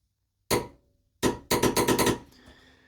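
A torque wrench tightens a bolt on the rear axle of a Jeep during a 3.5-inch lift kit install. Close, loud metallic clicks come in three bursts, with a quick run of ratcheting clicks near the end, and there is no talk.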